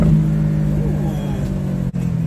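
A 2019 Porsche Boxster's engine revs and pulls hard close by, a steady loud rumbling drone with a brief dip near the end, while a person talks excitedly over it.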